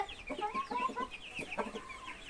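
Chickens cluck in a quick run of short, close calls, with a brief pause and then a few more clucks.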